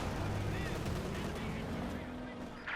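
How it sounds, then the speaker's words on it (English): Tank main gun blasts and rattling machine-gun fire in Company of Heroes 2, dense and loud battle noise filling the whole moment, with a commentator's voice faintly under it. "getting a kill there with main gun and machine gun"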